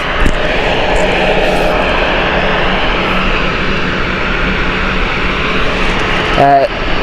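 A JetBlue Airbus A321neo jet airliner at Gatwick Airport, a loud steady engine roar filling the scene from start to finish, with a person talking over it.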